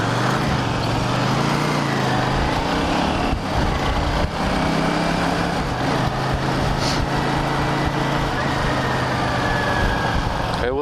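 Steady engine drone from a 1983 Honda GL650 Silverwing Interstate motorcycle out on a ride, close and continuous with wind noise and slight pitch shifts as it moves, no clear voices.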